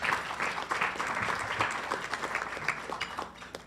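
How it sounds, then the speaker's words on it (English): An audience claps in steady applause for a speaker at a Tiger Bay of Manatee County gathering on animal welfare, a dense continuous patter at moderate level that holds throughout. "Could you please give her another round of applause?"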